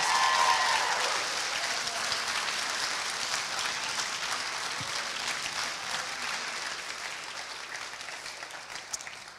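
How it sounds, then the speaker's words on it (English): An audience at a TEDx youth event applauds steadily for the whole stretch, a dense wash of clapping that starts strongest and fades only slightly, with no voices standing out above it. "I think we should give them all a big round of applause, everyone who's backstage."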